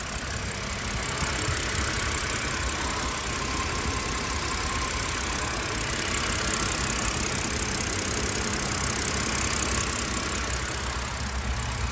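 BMW N52B30 inline-six engine idles steadily, a continuous low rumbling drone with even loudness and no voices.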